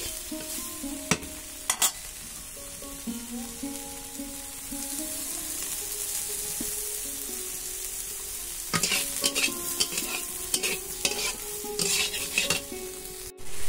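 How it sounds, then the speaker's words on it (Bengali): Soybean chunks frying and being stirred in a pan at home, with a steady sizzle under repeated scraping and clattering strokes that get busier toward the end. "তো এখন আমি সোয়াবিন ভাজছি।"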